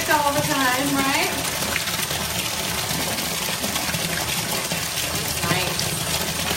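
Tap water pours steadily into a filling bathtub, a constant close splashing rush that runs beneath a woman's speech.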